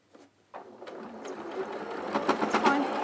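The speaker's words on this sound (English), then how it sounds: "So I'm going to sew down there." A sewing machine stitches a seam, starting after a brief pause and building into a close, steady mechanical whir that runs to the end, with no talking.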